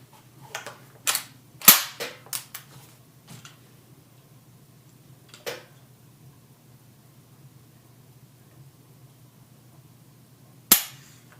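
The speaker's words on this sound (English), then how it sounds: "one thing I think I failed to mention was how nice this trigger pull is" Dry mechanical clicks from a Mossberg 930 shotgun trigger being pulled, a quick cluster of sharp snaps early on, then an isolated click midway and a final louder snap near the end, with quiet between.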